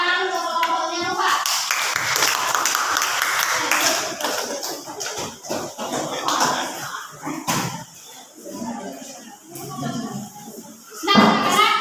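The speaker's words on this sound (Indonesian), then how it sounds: "silakan tepuk tangan untuk kelompoknya" Classroom students clap for a student group, a burst of hand claps with sharp slaps and uneven rhythm, mixed with children's voices and a teacher talking.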